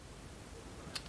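A crimping tool's built-in cable cutter cuts through a cable with one sharp, close snip near the end, after a stretch of near silence and with no talk.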